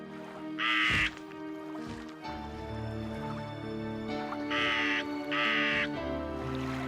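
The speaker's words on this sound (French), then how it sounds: "Jour après jour, le corbeau s'éloignait à tire-d'aile." A raven caws loudly in three harsh bursts, one early and two close together near the end, over a soft orchestral music bed in a narrated Noah's ark story.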